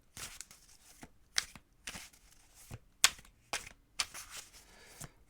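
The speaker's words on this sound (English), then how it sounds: "we're going to go ahead and shuffle and start with you guys" Tarot cards being shuffled up close: a series of brisk, papery riffles and soft taps in irregular bursts, with quiet pauses between them and no voices.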